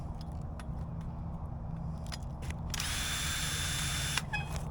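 A power drill whirs close by as it unscrews screws from a fruit tree protection frame outdoors, a steady high whine for a couple of seconds after light clicks and handling knocks over a low background rumble.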